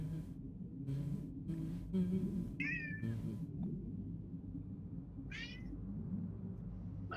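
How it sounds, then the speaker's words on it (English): A house cat meows twice, short close cries spaced a couple of seconds apart over a low steady hum and a few dull thumps in the background. "My cat."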